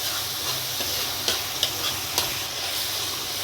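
Spice masala roasting in oil in a pan over a medium flame while stuffed okra is made, giving a steady close sizzle with a few sharp scraping taps from the spoon.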